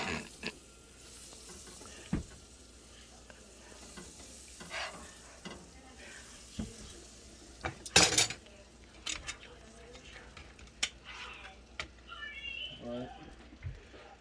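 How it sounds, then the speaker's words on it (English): Two tablespoons of butter in a hot pan ahead of searing steak: a continuous low sizzle and crackle with occasional sharp utensil clatters and scrapes against the pan. "I got this pan hot"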